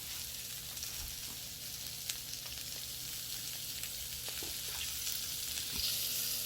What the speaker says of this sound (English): we're gonna let them veggies cook right there in that butter for a while.